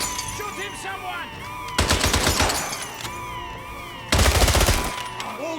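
Gunfire from the James Bond 007: Blood Stone video game, two loud bursts of rapid automatic shots against a busy backdrop of sweeping electronic tones and chirps, close and punchy.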